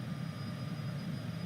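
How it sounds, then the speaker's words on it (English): Steady jet engine drone of a Cessna CJ4 cruising in Microsoft Flight Simulator 2020, a low, even rumble with a faint high whine, heard alone. "this kind of noise puts me to sleep. This kind of like jet engine noise"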